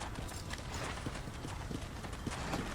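Horse hooves clip-clop steadily in the Red Dead Redemption video game, an even trotting rhythm of soft, close hoof strikes over a quiet ambient bed, with no talk.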